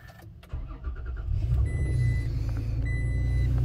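A 2018 Toyota Tacoma TRD Pro cranks and its engine catches, then settles into a loud, steady idle with a few electronic chimes sounding from the cabin.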